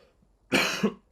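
A single harsh cough, close and loud, following a brief quiet moment, with the start of another sound at the very end.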